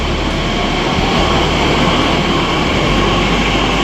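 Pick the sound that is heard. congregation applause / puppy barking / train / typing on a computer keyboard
train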